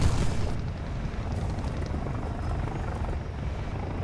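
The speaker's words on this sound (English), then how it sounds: "oh no, a helicopter" Helicopter rotor noise in a tank combat video game, a steady loud low rumble with booming undertones lasting throughout, no speech.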